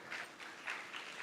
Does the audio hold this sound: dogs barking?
no